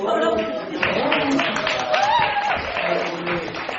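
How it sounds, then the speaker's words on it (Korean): Audience applause at a Korean library film talk for Home Behind Bars, steady clapping mixed with crowd voices and cheering over the whole stretch. "회장님들 큰 박수로"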